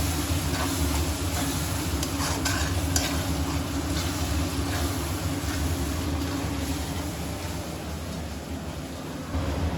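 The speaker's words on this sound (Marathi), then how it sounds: "मसाले थोडे तेलामध्ये चांगले फ्राय करा" Spices frying in oil in a pan for Chinese noodles, with a continuous close sizzle and faint scraping from stirring, steady and without speech.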